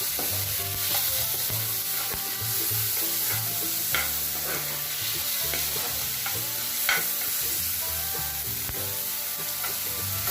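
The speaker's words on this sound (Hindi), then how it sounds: "अब हम इसमें टमाटर डालेंगे बारीक कटे हुए, अच्छे से ये भी भूनेंगे।" Finely chopped tomatoes fry and sizzle in a pan for a Maggi noodle dish, with occasional spoon stirs and clinks over a constant close frying hiss.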